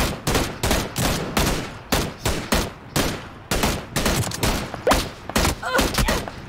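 Gunfire from an SLR rifle in PUBG: Battlegrounds rings out as a rapid series of loud, sharp shots, close together in short clustered volleys that run through the whole stretch.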